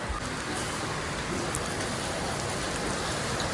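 Steady, dense rain pours down without a break, a constant hiss of drops hitting surfaces close by.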